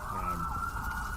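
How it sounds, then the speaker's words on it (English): Sirens wail with a steady, fairly loud tone over a low rumble, as emergency vehicles draw near. "Here comes the sirens."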